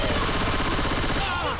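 Rapid, continuous automatic gunfire in the zombie shooter Left 4 Dead 2, a dense close burst that fills the whole moment and thins out slightly at the end.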